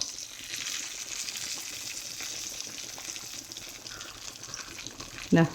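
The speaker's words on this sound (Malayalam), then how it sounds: "ഇതൊന്ന് ഫ്രൈ ആയി വരുന്നത് വരെ നമുക്ക് വെയിറ്റ് ചെയ്യാം" Masala-coated mackerel frying in a pan of coconut oil gives a steady, close sizzle with crackling oil throughout, ending in a brief louder clatter or scrape at the very end.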